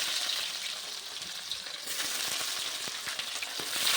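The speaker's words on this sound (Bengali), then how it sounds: "পেঁয়াজগুলো ভালো করে ভাজা হয়ে গেলে, একটু নরম হয়ে গেলে আমি অন্য বাকি মশলাগুলো দেবো।" Chopped onions fry in hot oil tempered with cardamom, cloves, cinnamon and cumin, giving a close, steady crackling sizzle with faint stirring scrapes throughout.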